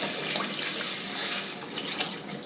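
Water pours into a soup pot for Czech potato soup, a steady, close, rushing splash that holds at an even level before thinning slightly toward the end.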